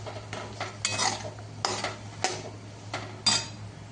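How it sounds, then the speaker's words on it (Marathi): Dry ginger and lumps of asafoetida fry in a pan for black masala, a metal spoon scraping and tapping the pan in irregular strokes over a low steady hiss. "आता इथे सुंठ तळतीये, त्याचबरोबर मी इथे खडा हिंग देखील यात टाकणार आहे।"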